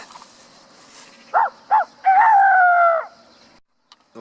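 A person imitates a rooster crowing, with two short clipped syllables followed by a long drawn-out cry, close and clear against a quiet outdoor background.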